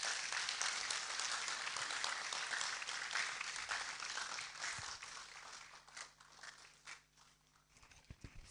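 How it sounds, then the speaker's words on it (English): A conference audience at an international postgraduate studies event breaks into sustained, dense applause that fills the hall, then thins out into scattered, fading claps toward the end. "A better round of applause for him."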